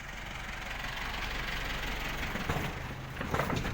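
Isuzu diesel engine idling on a Thai farm vehicle (e-taen) with a car-type radiator, running steadily at a moderate level with a low rumbling drone and no talk.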